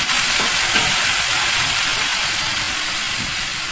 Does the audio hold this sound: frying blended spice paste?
yes